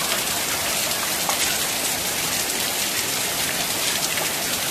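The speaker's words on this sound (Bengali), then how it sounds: "প্রচুর বৃষ্টি হচ্ছে।" Heavy daytime monsoon rain pours in a dense, steady roar, loud and constant with no voices over it.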